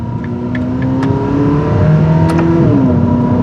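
A 2023 Ferrari SF90 Stradale Assetto Fiorano in Signal Green with Novitec parts accelerates on a test drive, its engine a steady, rising drone heard from inside the cabin with tones climbing in pitch, loud and without voices.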